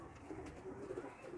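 A male pigeon, a fancy breed, gives a soft low cooing call, faint and close, over quiet background noise.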